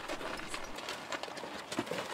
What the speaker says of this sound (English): Denise Ross and her daughter Michelle treated their horses to a ride and treated us to some great video of horses